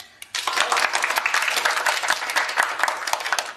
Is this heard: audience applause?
yes